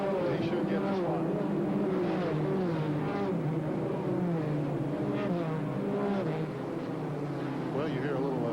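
Stock race cars at South Boston Speedway during the 1991 Carquest 300, their engines blending into a continuous, loud, dense roar that holds steady throughout with only slight swells as cars pass.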